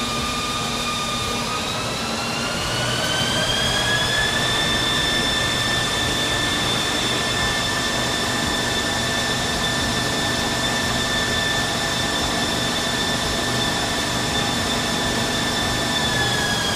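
An automatic transmission runs on a G-TEC dyno road test simulator, putting out a steady mechanical whine whose pitch climbs over the first few seconds and then holds in a constant drone, with no voices.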